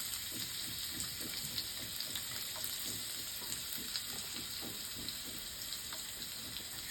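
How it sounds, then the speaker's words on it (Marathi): Small chopped onion frying in hot oil in a pan, a steady close crackling sizzle with faint stirring scrapes and pops running throughout, no voices. "तेल गरम झालेला आहे तेलामध्ये आपण कांदा घेतलाय छोट्या आकाराचा"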